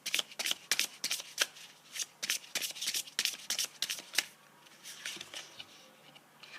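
Tarot cards are shuffled and then laid down, giving a rapid run of crisp, papery riffle snaps that slows into a few softer slaps and slides, close and with no talking.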